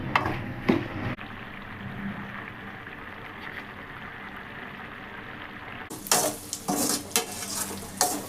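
Egg and ridge gourd curry sizzles and fries in a pan, with a steady low crackle, then louder scraping stirs and clatter near the end.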